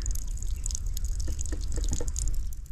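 Water pouring and splashing steadily out of a homemade free energy water pump, a continuous close trickle with small drips, with no talk over it.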